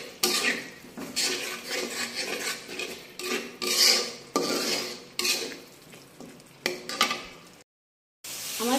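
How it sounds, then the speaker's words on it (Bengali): A spice paste with mustard stir-fried in a pan for a hilsa fish dish, repeated scraping and clanking of a metal spatula against the pan over a soft sizzle, close up, with a short silent gap near the end. "এবার মশলাটাকে খুব ভালো করে কষিয়ে নিব।"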